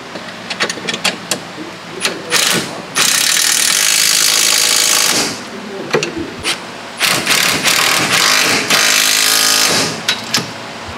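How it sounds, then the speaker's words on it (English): A power tool drives bolts on a Polaris RZR lower control arm at the frame side, with loud sustained whirring bursts broken by short clattering taps and pauses in a workshop. "Now that we got the lower control arm all bolted in at the frame side"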